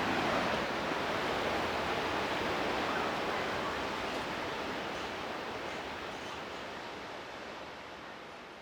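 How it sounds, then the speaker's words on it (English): Waterfall pouring into a grotto on Mount Hallasan: a dense, steady broadband rush of falling water, fairly loud and close, easing slightly toward the end, with no voices. "So here, have some waterfall ASMR as I stare at the peak."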